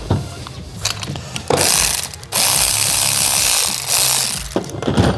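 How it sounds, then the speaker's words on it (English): A hand ratchet clicks and turns in short bursts, loosening a spark plug from a blown 125cc turbo go-kart engine, close and loud with metallic clatter between strokes. "All right, so out comes the spark plug."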